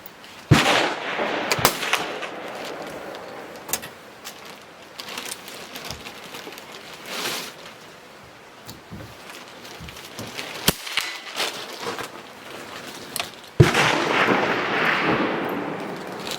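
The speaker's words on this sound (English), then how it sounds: "So let's shoot this thing." Loud, sharp gunshots from a Furter/Marti .22lr straight-pull rifle, a K31-style clone, fired at an outdoor range as several separate cracks spaced irregularly over steady background noise, with no talk.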